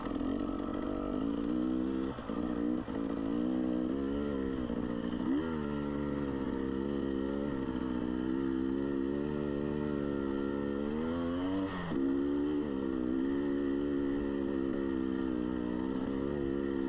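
A motorcycle engine drones steadily as the bike climbs a long hill on a Hatfield-McCoy trail ride at Bearwallow. Its pitch rises and falls with throttle changes, with a brief dip around two seconds and another near twelve seconds, heard close with no talking.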